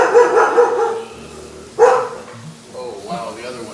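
A dog barks in a few loud, close bursts, with a pause between them, while a person talks nearby.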